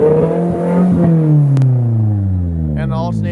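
A Nissan S13 with an SR20 engine idling, a close, steady low engine drone whose pitch slides downward as revs settle after a blip, with a short mechanical clatter near the end.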